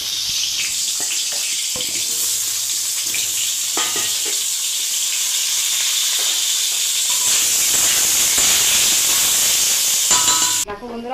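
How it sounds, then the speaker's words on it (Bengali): Pointed gourd (potol) frying in hot oil in a heated kadai, giving a loud, steady sizzle and hiss that runs unbroken throughout, with occasional soft stirring clinks and a low hum beneath. "দেখো বন্ধুরা, পটলটা প্রথমে ভেজে নিচ্ছি।"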